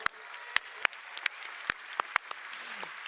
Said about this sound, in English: shall we clap hands for Wei?